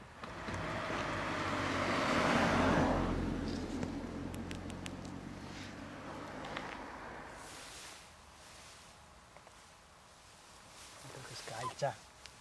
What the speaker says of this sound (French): il y a une voiture qui vient juste de passer